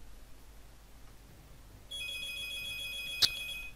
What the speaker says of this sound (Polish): O tej godzinie telefon?